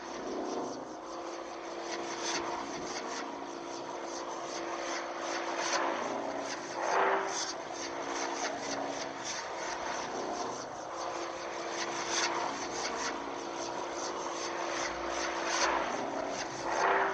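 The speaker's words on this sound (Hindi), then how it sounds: "वहाँ एक यूएफओ आ गया था।" A UFO arriving in a cartoon zombie horror story, rendered as a steady aircraft-like engine drone with a propeller hum that holds loud and continuous, swelling slightly as it nears.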